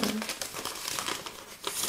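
Paper till receipts are handled close up, giving a continuous run of dry crinkling and rustling with small crackly peaks throughout.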